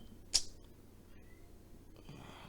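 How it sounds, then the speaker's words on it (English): A cat meows once, a single short call from close by at a door, followed by quiet room noise and faint shuffling. "That's this cat want me to open the door for it."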